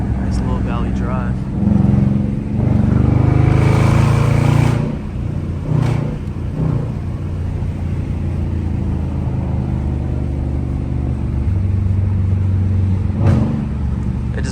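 A Dodge Charger R/T drives along a valley road, its engine droning steadily inside the cabin while a couple of brief exhaust pops crack through, with a voice speaking over the drive.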